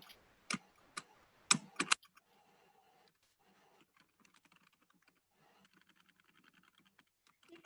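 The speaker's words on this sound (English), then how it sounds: "I will type it in the chat box" A quick burst of clicky keystrokes on a computer keyboard is heard up close, then fainter, scattered tapping continues quietly in an otherwise silent room.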